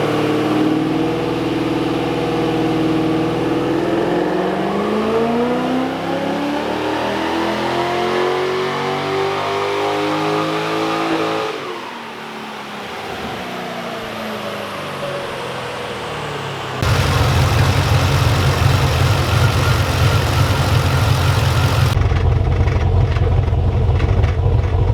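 A Holden VE SS V8 sedan revs on a dyno during a baseline power run before a supercharger install, a loud engine sweeping steadily up through the gears, then dropping off and settling into a harsh, heavy roar.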